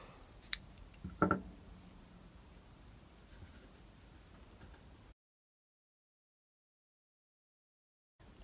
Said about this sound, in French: je rajoute 7 mailles en l'air et je coupe mon fil.